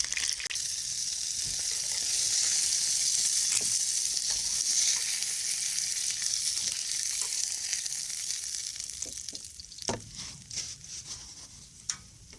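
Burgers sizzle and fry in a hot pan outdoors in the woods, a loud steady hiss that swells and then eases, with a few sharp knocks and clatters near the end.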